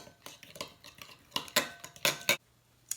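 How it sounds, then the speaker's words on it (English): Black pepper, salt and seasonings are stirred together in a bowl for carne asada, brisk clinking and scraping of a utensil against the bowl in uneven bursts, close, with no talk. "I'm just going to mix all this together."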